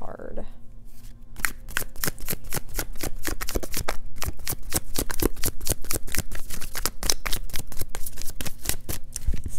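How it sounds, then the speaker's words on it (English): A deck of tarot cards being reshuffled by hand, a long run of crisp, rapid riffling flicks close to the mic, loud and continuous, with no speech. "Let's reshuffle."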